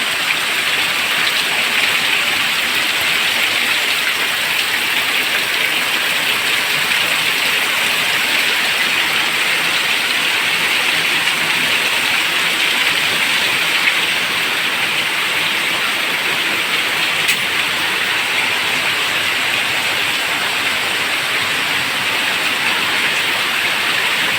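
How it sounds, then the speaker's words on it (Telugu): Heavy pouring rain comes down in a sudden downpour, a dense, loud, unbroken hiss that holds steady throughout with no voices. "భారీ వర్షాలు కుండపోతతో వాన వస్తుంది"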